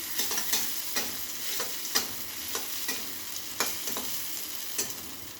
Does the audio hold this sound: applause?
no